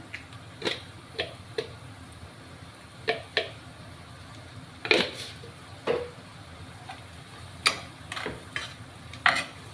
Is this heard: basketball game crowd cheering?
no